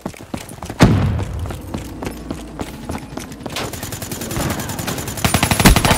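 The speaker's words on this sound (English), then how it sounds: "UAV firing down." UAV gunfire in Call of Duty Black Ops III multiplayer, a loud, continuous stream of rapid automatic shots with heavy thuds at the start, building into denser firing toward the end.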